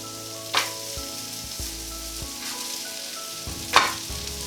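Steady sizzling of chickpea and pistachio burgers frying in a pan, with a couple of sharper crackles and pops standing out above the continuous hiss.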